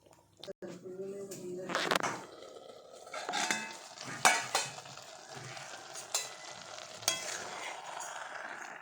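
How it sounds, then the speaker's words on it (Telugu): A spoon stirs ridge gourd curry with sesame flour, water and dried prawns in a pan, giving scraping and clinking strokes with sharp taps over a soft simmering sizzle; a voice is faintly present. "మధ్య మధ్యలో కలుపుకోవాలండి"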